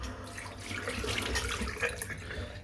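Close-up tap water runs steadily into a sink while a hand is wetted under the stream during a shave, a continuous hissing splash with small irregular spatters.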